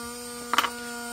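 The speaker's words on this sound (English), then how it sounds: "from the sound of the motor, it's fairly constant" Small electric motor of a free flight model aircraft running on a supercapacitor through a voltage regulator, a thin, constant electric hum and whine with a brief louder buzz in the middle, faint and close.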